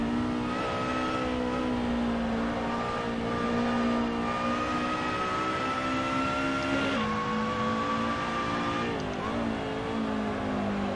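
A race car engine holds a steady high whine in a sim racing game, with pitch climbing gradually through gears, a sharp shift around the middle and another later, continuous and close throughout.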